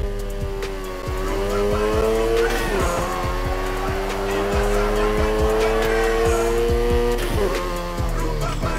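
A car in the racing game NFS Heat drifts with a loud, sustained tire squeal over a revving engine, with short breaks in the skid as the car shifts its slide.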